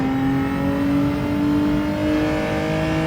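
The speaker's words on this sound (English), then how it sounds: "Down into second, start accelerating as you halfway through that curve." A Genesis G70 GR4 race car in Gran Turismo 7 pulls hard out of a corner at Mount Panorama, its engine note rising in a loud, steady, sustained roar with no talk over it.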